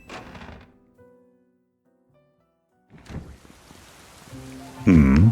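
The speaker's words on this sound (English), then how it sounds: "Raining." Rain falling in Pokémon Legends: Z-A, a dense hiss of game rainfall building up after a quiet stretch, with a heavier rumbling burst near the end.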